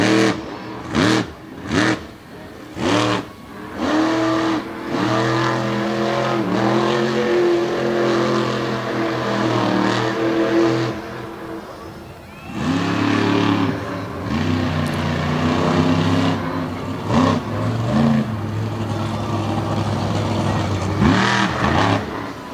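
Monster truck engine roars and revs in repeated surges while cutting donuts near walls and barricades at Lake Erie Speedway, loud and close, with the throttle rising and dropping and crowd noise faintly underneath.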